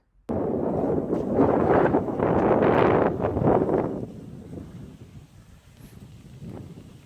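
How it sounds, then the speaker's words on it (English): Strong wind whips across a snowy mountain slope, buffeting the microphone with a loud, gusty roar that surges for several seconds and then eases to a softer, steady rush. "You can hear in that video that the wind is whipping"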